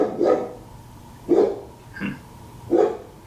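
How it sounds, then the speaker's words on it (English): A dog barks four separate times over a few seconds, each bark distinct with short pauses between, fairly close and clear against a quiet indoor background. "You guys hear that? It's my dog."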